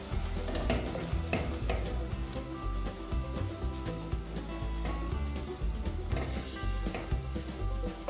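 Ingredients frying in a pan for a restaurant-style Chinese soup: a dense, continuous sizzle with busy stirring throughout, loud and close.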